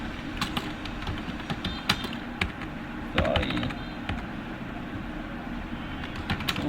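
Computer keyboard typing while writing HTML code, heard as quiet, irregular key clicks over a steady background hum.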